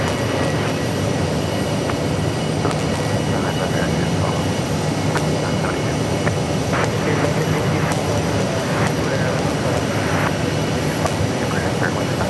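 An American Airlines jet at Phoenix Sky Harbor Airport rumbles as a steady, broad roar at moderate distance, continuous throughout with light background noise and some faint voices.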